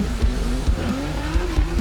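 A drift car at a drifting championship round at Hampton Downs holds its engine on the rev limiter, a loud, close, stuttering buzz with rhythmic pulses as the tires squeal underneath.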